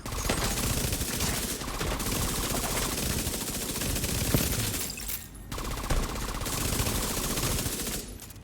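Sustained SMG fire from The Division 2, dense rapid bursts rattling almost continuously with a brief gap around the fifth second before the shooting resumes, loud and close.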